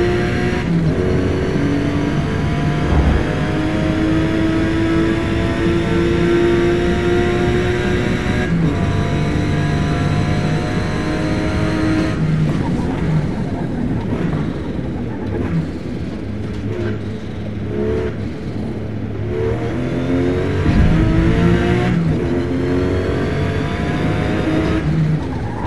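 A race car in Forza Motosport screams through gear changes on the Virginia circuit, engine pitch climbing and dropping repeatedly as it accelerates and brakes, loud and continuous with tyre noise mixed in.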